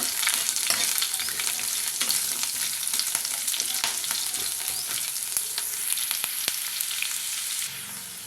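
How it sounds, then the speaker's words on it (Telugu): Carrot pieces fry in a pan for a ponnaganti greens rice, a dense crackling sizzle peppered with sharp stirring clicks that eases slightly near the end. "ఈ రైస్ ఇంకా కలర్ఫుల్గా ఉండడం కోసం క్యారెట్ ముక్కలు కొంచెంగా ఫ్రై చేసుకుందాం"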